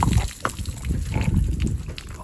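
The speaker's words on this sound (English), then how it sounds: "we're forever washing horses off here" Water from a hose splashes and sloshes over a horse being washed, close and fairly loud in irregular gushes with low thumps, with no one talking.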